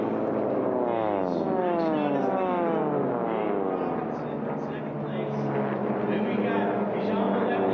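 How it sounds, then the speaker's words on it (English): Supercharged and turbocharged racing airplane engines roaring past on a Sunday morning at a Sport Bronze class air race, a loud sustained drone with sweeping Doppler pitch shifts, a commentator talking over it. "those supercharged, turbocharged motors just sound beautiful here on Sunday morning."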